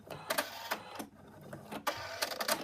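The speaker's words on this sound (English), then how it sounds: "now the machine is going to stitch out the outline for the arms" An embroidery machine stitches a frog's arm outline onto stabilizer held in a hoop, giving rapid mechanical chattering bursts that stop and start in short runs with brief pauses between.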